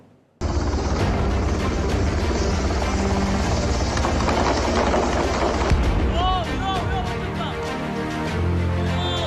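A loud, continuous military helicopter rotor roar during the evacuation of wounded soldiers dominates throughout, with faint voices and chirping sounds appearing near the end.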